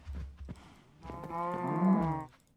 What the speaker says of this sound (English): Look at these cows in the corner here.